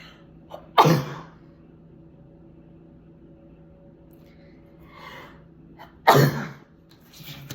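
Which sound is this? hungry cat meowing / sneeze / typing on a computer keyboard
sneeze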